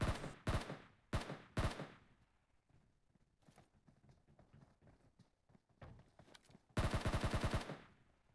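Rifle fire in PUBG on the Georgopol map: three sharp, loud shots at the start, scattered quieter shots and footsteps in between, then a rapid automatic burst of about a dozen rounds near the end.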